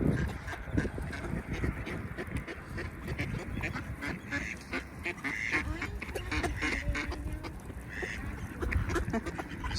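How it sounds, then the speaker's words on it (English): Ducks quack busily and close by outdoors, a dense run of overlapping calls with scattered honks, continuous throughout. "The ducks have found us."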